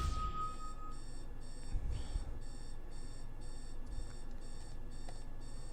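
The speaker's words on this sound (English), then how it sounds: "you probably hear a alarm in the background." An alarm clock beeps faintly in the background of a Minecraft let's play session, its short electronic bleeps repeating in steady bursts under a low room hum.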